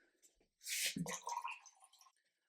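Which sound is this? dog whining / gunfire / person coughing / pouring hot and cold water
pouring hot and cold water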